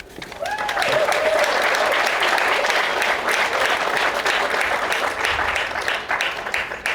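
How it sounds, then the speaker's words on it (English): Sustained audience applause fills a school district celebration for the opening of a new student wellness center, dense clapping with a few cheers, steady and fairly close throughout. "Let's give them one more round of applause."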